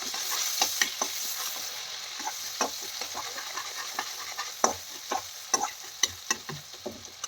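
Mixed vegetables with turmeric and red chili are stirred in a sizzling pan, with repeated close scrapes and taps of the spoon over a continuous fry.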